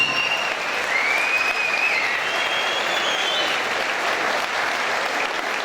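Steady, loud audience applause at a combat sports fight event, filling the whole stretch, a dense wash of clapping with a faint whistle or cheer on top.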